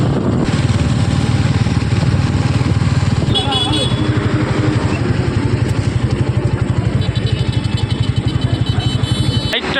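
A motorcycle crossing the bridge over the Rupnarayan river at Kolaghat, its engine thrumming steadily with a rapid pulsing beat and rushing wind, loud and close, with a voice speaking over it.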